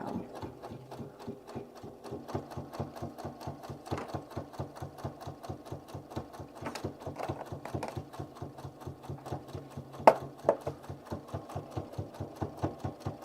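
A sewing machine doing sashiko decorative stitching through several layers of fabric runs steadily with a fast, even needle thump throughout, fairly quiet and close, with no talk.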